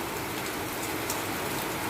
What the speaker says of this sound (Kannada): ಸಿಕ್ಕಾಪಟ್ಟೆ ಜೋರೈತಿ